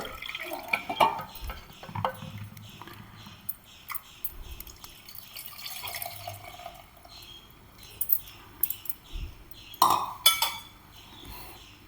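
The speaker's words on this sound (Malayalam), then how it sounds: "കുറച്ചും കൂടി വെള്ളം ഒഴിച്ചു കൊടുക്കാം പിഴിഞ്ഞിട്ട്" Water poured and sloshed while tamarind is squeezed for a Kerala-style sardine curry, with wet drips, splashes and clinks of kitchen vessels coming in irregular bursts close by, no talk.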